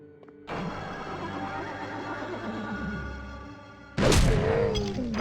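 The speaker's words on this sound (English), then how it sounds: "I just suddenly heard a horse" In the horror video game Nosferatu, a horse neighs loudly and close by in a drawn-out whinny, and a sudden heavy crash-like burst follows near the end.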